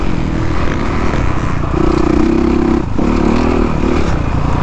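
Honda CRF450R dirt bike engine revs hard and steadily while sliding sideways, a loud continuous roar with pitch shifts and a brief dip as the rider changes throttle.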